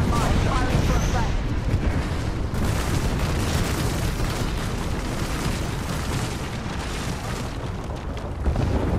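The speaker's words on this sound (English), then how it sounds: "Calling the airstrike." Game airstrike explosions from Apex Legends roll in continuous heavy booms and rumbling blasts, loud and sustained across the whole stretch without letup.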